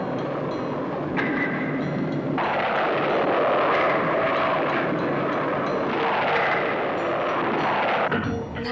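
A spacecraft landing effect from a 1977 science-fiction film: a loud, continuous roaring rumble that swells and shifts in texture for several seconds, then drops away near the end, with no voices.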